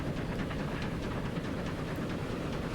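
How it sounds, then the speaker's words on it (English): A 4-4-0 passenger train in the video game Transport Fever 2 runs past a freight train, a loud, continuous rolling rumble with faint rhythmic clatter of wheels throughout. "Going through a freight train."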